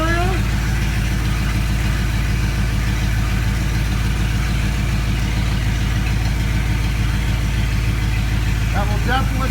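A 1990 Dodge Ram 150 engine idles steadily and evenly close by, its low throbbing rumble constant from start to finish without a rev.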